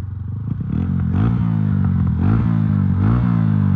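Honda Titan 150 carbureted motorcycle engine, fitted with a jet command, revs up repeatedly in close, loud surges with rising and falling pitch, heard alone without talk.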